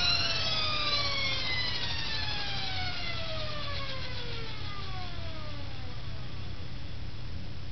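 A brush-shifting repulsion induction motor, switched off, spins down: its whine falls steadily in pitch for about eight seconds over a constant low hum, with no clicks from a centrifugal switch.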